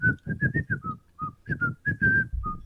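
A person whistles the tune of Pop Goes the Weasel to imitate a pet cockatiel, a dozen or so close, clear notes in a bouncy rhythm with no speech.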